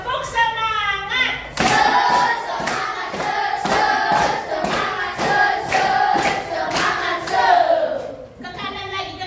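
A group of children claps a rhythmic spirited clapping routine in unison, about a dozen loud, evenly spaced claps in a classroom, bracketed by brief shouted chanting voices at the start and end.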